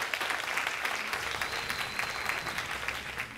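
Applause from an audience welcoming Senator Mark Leno at a live event, a steady dense patter of clapping that holds throughout at moderate distance.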